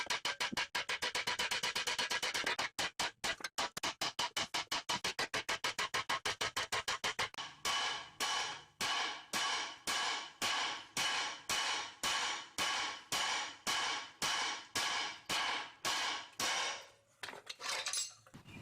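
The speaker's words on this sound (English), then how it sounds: "I'll do some hammer blows here" Sharp metallic hammer blows ring out in a long series, rapid and dense at first, then slowing to steady, evenly spaced strikes, loud and close, knocking a car's seized ball joint loose.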